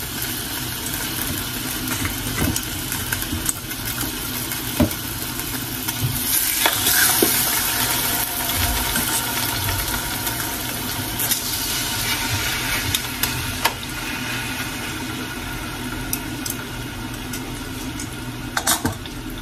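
Five pork chops fry in a pan with a constant, close sizzle and spatter, broken by occasional sharp clinks and scrapes of a utensil against the pan.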